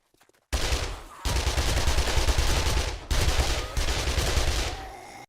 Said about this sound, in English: Alright, let's use a gun.